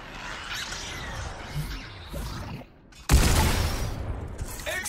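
Robot-shooter game Robo Recall: scattered gunfire and clatter, then a sudden loud blast bursting in after a brief lull and rumbling on to the end.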